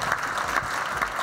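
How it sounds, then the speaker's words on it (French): An audience applauds Jean-Laurent Garnier of Generali at the close of a live insurance talk show, a steady wash of clapping hands at even loudness through the moment. "on peut applaudir Jean-Laurent Garnier, s'il vous plaît"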